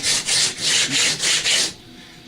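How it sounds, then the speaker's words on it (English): Sandpaper rubbing back and forth across the surface of an RC model airplane being recovered, six loud rhythmic scraping strokes close up, then a brief pause and a final short scrape. "you want to keep running it like that until you get it all sanded down."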